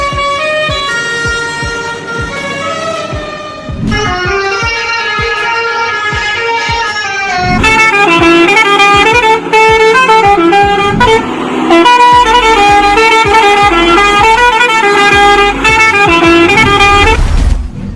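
A loud musical truck horn plays the tune of a song, sustained tones shifting pitch in phrases with brief breaks, close and bright over faint traffic rumble.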